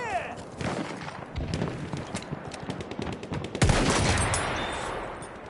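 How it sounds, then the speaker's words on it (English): Rapid machine gun fire in a video game battle, a fast stuttering stream of loud shots that intensifies near the end into a heavier, sustained burst over background combat noise. "Machine gun! Hostile!"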